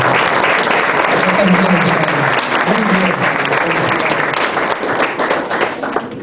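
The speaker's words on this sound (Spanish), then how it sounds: "Un aplauso para ellos, por favor." Audience at a gathering applauding, sustained dense clapping from many people that fades slightly toward the end, with voices calling out beneath it.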